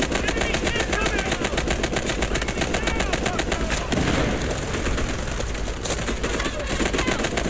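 Rapid automatic gunfire in the mobile shooter game Delta Force Mobile, dense continuous bursts of shots filling the whole span with a brief louder impact midway, while a player talks faintly underneath.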